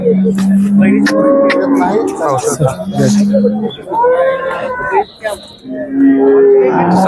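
Several cows low with long, drawn-out moos, one after another, mixed with people talking nearby at a busy outdoor cattle market in Baramati.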